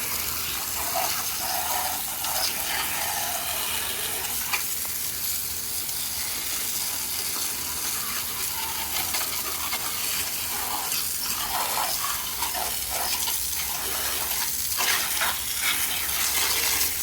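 A garden hose sprays water steadily over smoke-damaged electronics, including a flyback transformer and cables, producing a continuous close gushing hiss with brief spattering bursts toward the end.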